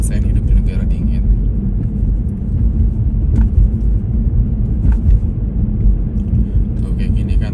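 A car drives along a road in a snowstorm during a cold winter, producing a steady, loud, continuous rumble of engine and tyre noise with no distinct peaks throughout.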